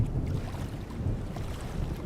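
A wooden boat on a dark river drifts toward the bank, with a low rumbling wash of water and wind noise, steady and fairly faint, with no voices.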